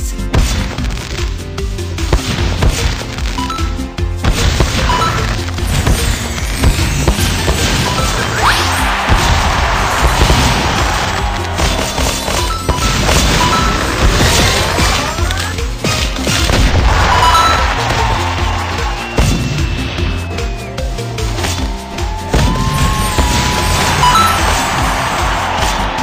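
Cartoon fireworks go off in a dense, loud barrage of booms, crackles and bangs, continuous for the whole stretch with no talk over it.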